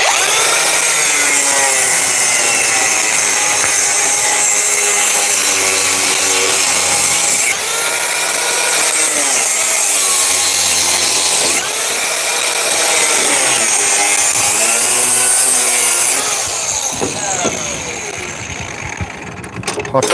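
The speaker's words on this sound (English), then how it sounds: "I'll cut it with the angle grinder" An angle grinder cuts through a trailer axle outdoors during a field repair, a loud continuous high-pitched whine that shifts pitch as the disc bites the steel, with a few voices talking faintly beneath it.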